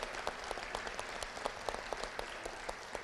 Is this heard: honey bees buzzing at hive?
no